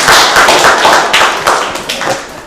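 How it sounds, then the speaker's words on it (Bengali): A group of children applauding, a short burst of bright, scattered claps fading slightly over a couple of seconds, close and fairly loud. "তোমরা সবাই হাততালি দাও।"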